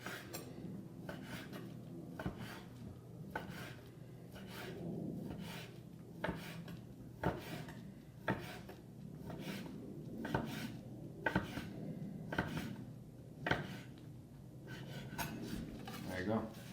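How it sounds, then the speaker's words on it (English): A knife repeatedly cuts through ribeye beef on a board, with steady rhythmic slicing strokes and faint taps, while a person talks throughout. "I'm using the length of the knife here. You're going to get a much cleaner cut."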